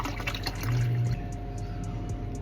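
Water being added to a water-based OEM leather dye for car seats, a soft, steady trickling and pouring wash that runs without voices.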